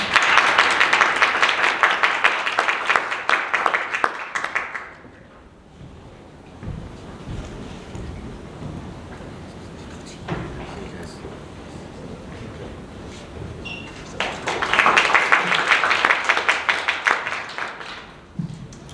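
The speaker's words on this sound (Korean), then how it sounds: "큰 박수로 모시겠습니다." Forum audience applause welcomes a speaker, a burst of many hands clapping at the start, then quieter shuffling and tapping, then a second burst of applause near the end.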